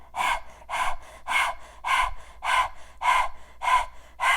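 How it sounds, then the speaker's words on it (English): Breath of fire breathing exercise performed as dog-like panting, about nine rapid breathy pants in an even rhythm, close and clear, with no talk. "pretend that you are panting like a dog"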